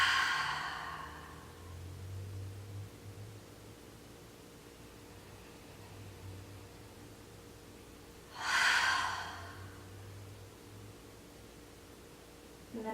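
Slow, deep exhalations during a yoga session, with a soft breathy rush near the start and another clear, louder exhale around the middle, separated by long quiet stretches.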